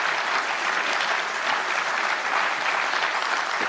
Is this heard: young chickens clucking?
no